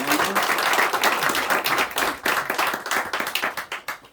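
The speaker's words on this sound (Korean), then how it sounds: "우리 하나님께 영광의 박수를 드리겠습니다" A congregation in a church gives a burst of applause, many hands clapping together in a loud, dense, continuous patter that begins to thin toward the end.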